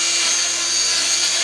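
An RC helicopter runs indoors on a test stand with a constant high, whining buzz of motor and rotor. It is close, steady and even throughout, with no talking.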